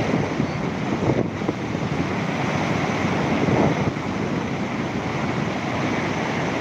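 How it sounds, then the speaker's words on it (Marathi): Water rushes out at Khadakwasla dam, a dense continuous roar of churning flow heard steadily at moderate distance, with wind buffeting the microphone and no talk. "बघा किती जोरात येतं पाणी."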